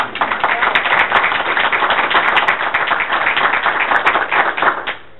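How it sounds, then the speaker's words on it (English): An audience at a school board of education meeting bursts into sustained, dense clapping for an awards presentation, loud and steady for about five seconds before cutting off abruptly. "That is a lot of claps."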